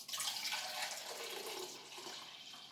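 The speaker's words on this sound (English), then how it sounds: "I'm going to pour this black tea" Black tea for a homemade kombucha batch poured into a container, a steady splashing stream of liquid running close by for nearly three seconds with no talking.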